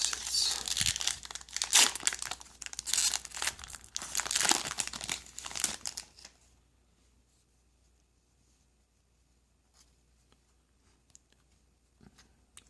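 A Magic Origins booster pack's foil wrapper crinkles and tears loudly and close up for about six seconds, then the sound stops and near silence follows.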